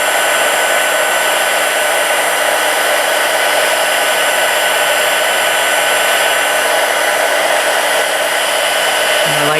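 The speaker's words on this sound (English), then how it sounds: "It won't take as long for this one because the heat tool's already been warmed up." A heat tool melting embossing powder on a handmade card blows a steady, loud whirring hiss the whole way through, with no talk over it.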